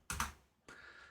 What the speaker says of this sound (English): So I'm going to type in TPR.